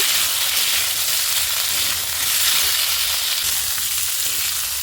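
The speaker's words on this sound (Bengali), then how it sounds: "এখন ফুলকপি আলুটা ভেজে নেব" Cauliflower and potato pieces frying in oil in a wok, a bright, continuous close sizzle holding steady throughout with no speech.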